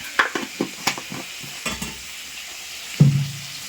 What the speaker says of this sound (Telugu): లక్ష్మి అయితే ఇప్పుడు కూర కలుపుతుంది